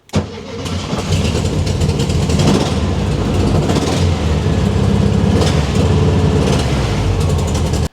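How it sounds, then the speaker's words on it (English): A VW Super Beetle engine, fed from a fuel bottle hooked to the carburetor, cranks briefly, catches and runs, settling into a loud, close, steady idle with a slightly uneven throb that carries on throughout. "Let's turn the key and see if the bug will run."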